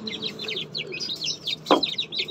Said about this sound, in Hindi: तो अब अपनी मुर्गी को भी निकालता हूँ बाहर